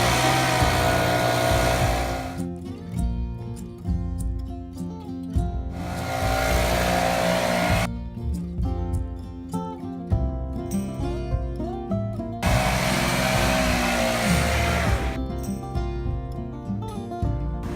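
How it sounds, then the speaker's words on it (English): A motor-driven blower pushes debris toward a wall. Its engine drone surges into loud, hissing blasts of air in several long bursts, with quieter idling stretches between them, and no one talks. "you're just blowing towards the wall and it's coming straight at your face"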